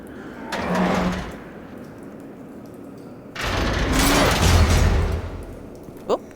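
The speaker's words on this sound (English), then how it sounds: "Oh, there goes that door." Sliding door in a Batman video game rumbling open in two long heavy bursts, the second louder with a low thud, ending in a sharp metallic click.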